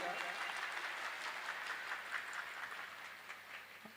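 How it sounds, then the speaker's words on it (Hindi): Loud, sustained clapping from an audience at a live Ramcharitmanas devotional music gathering, dense broadband applause filling the whole stretch with steady intensity. "एक बार और जोरदार ताली बजाओ।"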